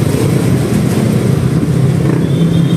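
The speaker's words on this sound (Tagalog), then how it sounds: "nagkakaroon ng kunting build up ng traffic" Rush-hour road traffic in Manila at dusk, with cars and motorcycles building up, makes a loud, continuous engine rumble and hiss close by, with no talking.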